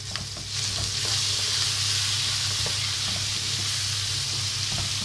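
Garlic ginger paste frying over a high flame in a pan, giving a steady, loud sizzle with bright hissing and occasional small pops, heard alone without talk.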